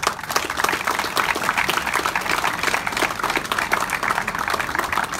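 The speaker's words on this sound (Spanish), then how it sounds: "Vamos a darnos a todos un aplauso." Students and staff at a school event in a large room give themselves a round of applause, loud and close, with distinct individual claps in a busy, steady rhythm for about five seconds.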